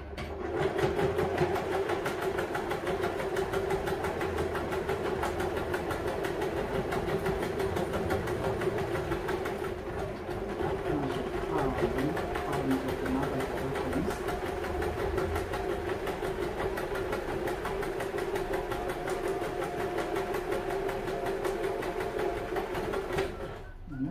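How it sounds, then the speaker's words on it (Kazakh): A sewing machine runs continuously while stitching the shortened hem of a pair of trousers, producing a steady, even mechanical hum and rapid needle chatter that carries on at close range for the whole stretch. "Енді қазір біз осы жерден тігіп шығамыз жайлап."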